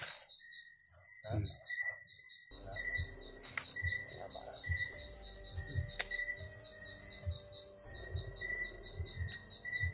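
Steady, rhythmic cricket chirping fills the background, with faint low rustles and brief noises beneath.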